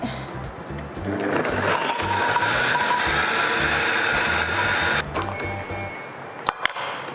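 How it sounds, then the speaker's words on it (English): A kitchen blender runs at speed 8 mixing oil into a paste, a loud steady motor whir with churning texture for about five seconds before it stops, followed by a couple of faint clicks. "I'm going to blend it for 30 seconds at speed 8"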